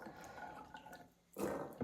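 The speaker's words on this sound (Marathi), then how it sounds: "आता याच्यामध्ये ॲड करायचं आहे मीठ आणि पाणी।" Water splashes into soaked chickpeas in a pressure cooker, with salt added too: a quiet kitchen lead-in, then a sudden loud gush of pouring near the end.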